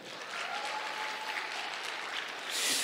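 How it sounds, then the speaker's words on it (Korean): Applause from a seated audience at a rally, a moderate, steady patter of clapping hands that lasts a few seconds and swells briefly near the end. "박수 한번 쳐주세요."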